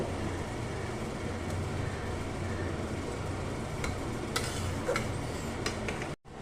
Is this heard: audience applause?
no